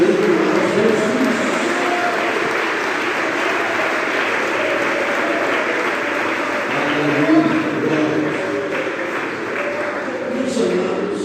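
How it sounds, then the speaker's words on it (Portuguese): A church congregation claps steadily in praise during an evangelical service, a dense continuous patter of hands with murmured voices and music-like tones underneath. "Desocupem as mãos, batam palmas, glorificando a Jesus."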